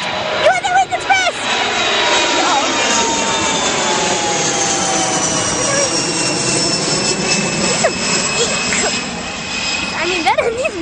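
A US Airways Express jet takes off at Ronald Reagan Washington National Airport, its loud, sustained engine roar filling the air nearby while spectators' voices are heard briefly over it.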